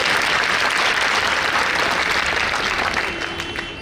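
An audience at a Hindi speech gathering in Gondia, Maharashtra claps steadily in a dense, loud round of applause that tapers off slightly at the end, with no speech over it.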